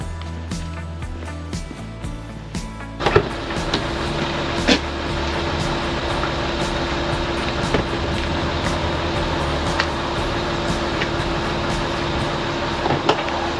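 A taxi ride heard from inside the car: steady engine and road rumble with broadband cabin noise throughout, a few clunks and knocks, and no clear power-window whine standing out.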